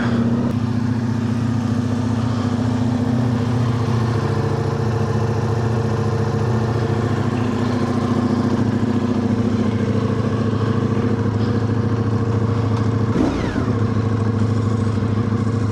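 A Ducati Multistrada V4 RS motorcycle engine runs loud and close, a steady deep rumbling idle throughout with a brief clatter near the end.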